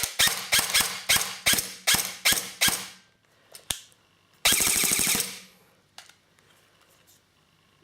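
An airsoft gun fitted with a Mosfet trigger unit fires a quick string of sharp, loud single shots, then after a pause lets off a short rapid full-auto burst, with a few faint clicks between.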